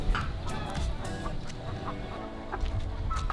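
Country chickens in a village coop cluck in short, scattered bursts over a low, steady rumble of background noise, with no talking.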